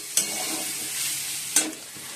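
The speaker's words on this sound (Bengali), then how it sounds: "বন্ধুরা উচ্ছে আলু ভাজা বসিয়ে দিয়েছি" Bitter gourd and potato frying in a pan, a steady soft sizzle with two sharp stirring scrapes about a second apart, close and alone without voices.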